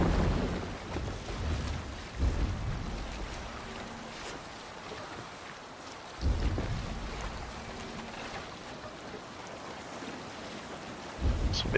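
A sailing ship on open water in Assassin's Creed Valhalla, with steady wind and surf rushing over the hull and periodic louder wave slaps every few seconds, no talk over it.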